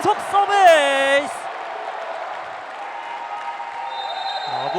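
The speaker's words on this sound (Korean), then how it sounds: "목포대학교 홈 관중들의 환호를 불러일으킵니다" A home crowd of Mokpo National University fans roars after a service ace in a university volleyball match against Hongik University; a voice rises briefly at the start, then a broad, sustained crowd noise fills the hall.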